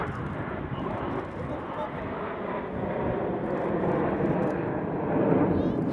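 A Red Arrows display jet pulling up into a loop at an air show, a broad, loud engine roar that swells slightly near the end and continues throughout.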